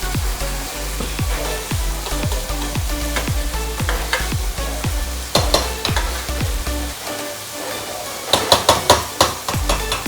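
Cooked toor and moong dal whisked in a pot, with a steady run of rhythmic strokes about two per second that break into a quicker flurry of sharper clacks near the end. No one speaks.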